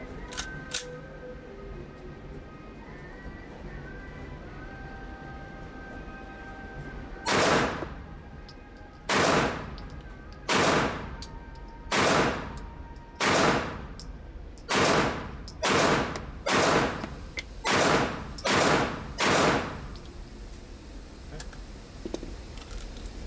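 Pistol shots from a Canik Prime Radian or Glock 19 fired at a paper target at 7 yards, about ten sharp loud reports in quick irregular succession after a quiet range lull.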